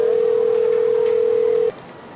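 A steady, unbroken telephone dial tone holds for nearly two seconds and then cuts off, leaving faint background hiss.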